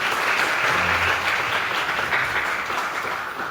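A church congregation applauds missionaries at a Wednesday prayer service, a dense, steady wash of many hands clapping that holds evenly throughout, with a faint murmur of voices beneath.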